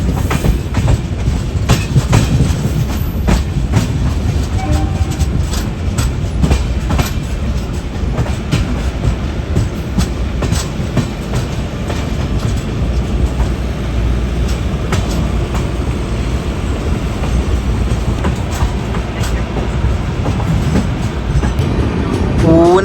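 Thiruvananthapuram Rajdhani Express rolling into Madgaon Junction on the Konkan Railway, a steady loud rumble of wagons with rhythmic clickety-clack wheel beats and a faint squeal near the end, no voices.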